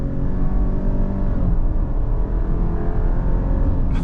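A 2025 Subaru Outback Premium, final model year of the sixth generation, accelerates at full throttle, its engine droning loudly and steadily with a rising tone, heard close from inside the car.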